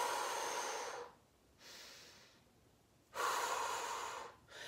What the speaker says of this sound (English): I'm very much breathing in my upper lungs and I'm basically doing this versus.